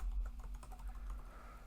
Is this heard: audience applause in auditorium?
no